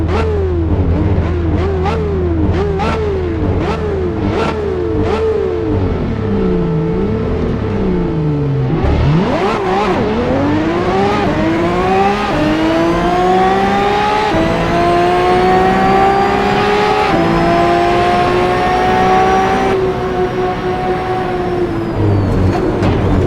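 Ferrari 599XX Evo racing car in Assetto Corsa, its engine revving hard through repeated upshifts and downshifts, then climbing steadily through the gears in a long, loud, continuous wail.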